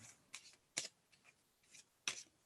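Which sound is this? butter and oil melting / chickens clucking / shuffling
shuffling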